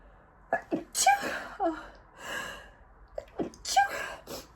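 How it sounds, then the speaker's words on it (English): A person gasps and then lets out a sharp sneeze, followed by breathy exhales and short vocal sounds, close to the microphone. "Oh my God, I'm going to sneeze."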